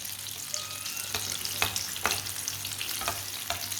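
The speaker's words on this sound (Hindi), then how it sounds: "थोड़ा थोड़ा ऑयल लेके ना ऊपर डाल लेंगे।" Potato tikki fry in oil in a pan, a steady close crackling sizzle with occasional sharper pops throughout, and no voices.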